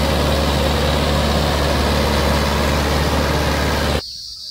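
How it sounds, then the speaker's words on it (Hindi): A Mahindra 575 DI tractor runs with a Shaktiman 7-foot rotavator, a loud, steady low engine rumble that cuts off abruptly near the end, with no talk. "भाइयों आज हम आपको महिंद्रा 575 को रूटर में चला के दिखाओगे। भाइयों शक्तिमान का रूटर है 7 फुटर रूटर है।"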